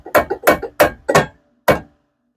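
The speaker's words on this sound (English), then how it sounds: "We're going to hit the knuckle right there." A sledgehammer strikes a steering knuckle on a 2004 Mazda Tribute to release the ball joint: five sharp metallic blows, four in quick succession and a final one after a pause, loud and close with no talk.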